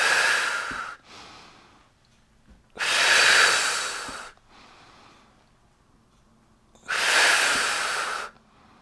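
Three long, loud breathy exhales alternate with softer inhales during a Pilates mat twist exercise, close and steady in rhythm, with no talk.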